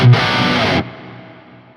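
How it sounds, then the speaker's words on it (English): A distorted electric guitar through the Archetype: Gojira X plugin hits a short loud chord that cuts off abruptly, leaving a long reverb tail fading away over the next second. "we're hearing a lot of that reverb"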